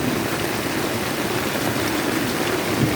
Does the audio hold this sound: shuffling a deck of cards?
no